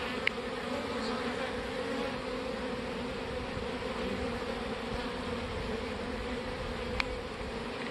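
Honey bees buzz densely and continuously around a hive during queen introduction after a swarm, a steady close hum with occasional louder passes.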